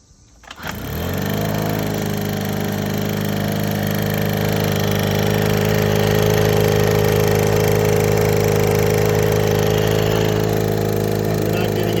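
An old Honda Urban Express scooter engine, whose throttle cable is wrongly installed, starts up abruptly and settles into a loud, steady, buzzing idle close by with no throttle response.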